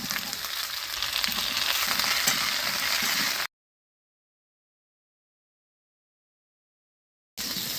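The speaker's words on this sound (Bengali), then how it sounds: "একটু ভাজা হয়ে গেছে, এর মধ্যে আমি ডাঁটাগুলো দিয়ে দিচ্ছি।" Potatoes and vegetable stems fry in oil in a pan, a close, even sizzle with faint stirring that stops suddenly into silence and then resumes briefly at the end.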